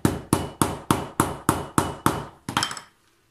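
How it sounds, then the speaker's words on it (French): A small hammer strikes eight times in a sharp, even rhythm, each blow ringing briefly, then a quick rattling flurry of lighter taps during craft work making card pouches. "Et petit bout de marteau."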